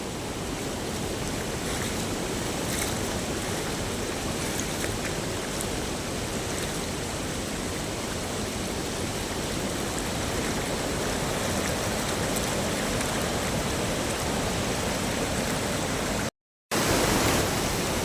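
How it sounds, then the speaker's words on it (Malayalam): A steady, loud roar of rushing flash-flood water coming down from the hills in Kerala, rising without pause, broad and dense like a torrent, with a brief dropout near the end. "നല്ല വെള്ളം വെള്ളം ഇങ്ങനെ കയറിക്കൊണ്ടിരിക്കുകയാണ് ഇതാണ് മലവെള്ളം"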